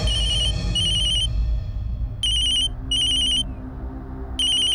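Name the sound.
telephone ringing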